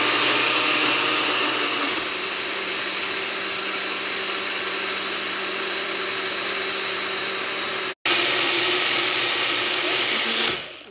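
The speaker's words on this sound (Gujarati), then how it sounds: "અને બધું મિક્સ કરીને બ્લેન્ડ કરી દઈશ." A blender runs steadily, whirring loud and continuous as it purées falafel chutney ingredients, with a brief cut before the motor picks up again and winds down near the end.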